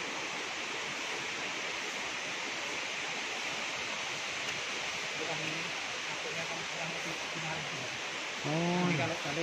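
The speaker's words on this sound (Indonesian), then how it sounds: "Ini sungai yang dari gua ini." A river flowing out of a cave makes a steady broadband rush like a waterfall or rapids, close and constant. Voices talk faintly over it near the end.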